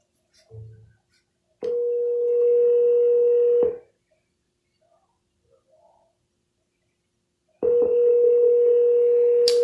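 Telephone dial tone during cold calling for real estate listings: two long steady tones, each lasting about two seconds, separated by silence, with a faint brief sound just before the first tone.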